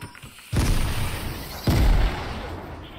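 Two heavy grenade blasts from Fortnite gameplay, the first near 0.5 s and the second near 1.7 s, each a loud, close boom with a rumbling tail that fades.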